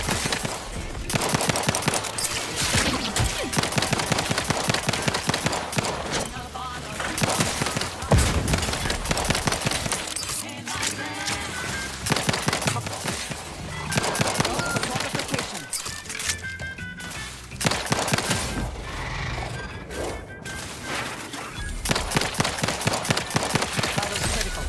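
Gunfire in the video game Outer Worlds 2, with dense, continuous bursts of rapid shots over a loud, busy game mix throughout.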